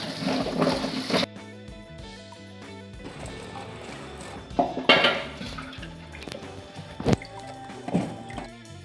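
Mushrooms being rinsed of soil and mud in water for a Kerala-style curry: splashing, dripping and clinking of a vessel, with louder sloshes around the start and middle and scattered drips between.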